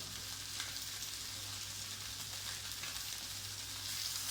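Vegetables such as bell pepper, onion and garlic sizzle in a frying pan alongside scampi, a steady, close, even crackle that holds for the whole stretch with no voices over it.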